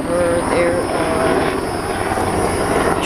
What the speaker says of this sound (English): there's airplanes flying over